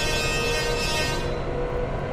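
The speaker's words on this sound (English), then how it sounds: "I don't think ever any other train in Japan honks at a crossing." A Japanese train sounds its horn at a level crossing during a blizzard, a steady sustained blast heard close over heavy rumbling running noise for about two seconds.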